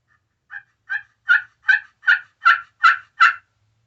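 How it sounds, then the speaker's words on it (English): A commercially made slate turkey call worked with a striker gives eight rising yelps in a steady rhythm, close and clear, each note louder than the last, with no talking. "this is just a run-of-the-mill, commercially made Slate call"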